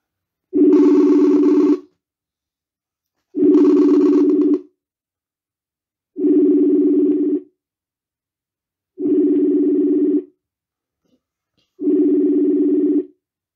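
A telephone rings with an incoming call, five evenly spaced electronic ring bursts of about a second each, loud and close, separated by silent gaps, with no talking.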